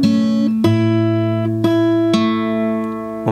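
An acoustic guitar plays a measure of a song's riff slowly, with four plucked notes ringing into each other, close and clear with no voices.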